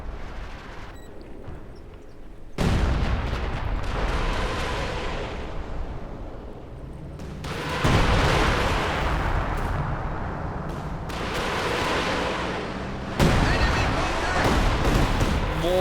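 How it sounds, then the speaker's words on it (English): Rocket artillery fire from a Katyusha in the World War II strategy game Company of Heroes 2, heavy booming blasts and rumbling salvos that surge in repeated loud bursts amid ongoing battle noise, with a voice talking over it. "More fire from the Katyusha."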